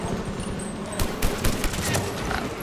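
Rapid bursts of gunfire from Mass Effect 3 multiplayer, a Destroyer soldier shooting through cover, with sharp overlapping shots clustered through the middle of the clip over constant loud background battle noise.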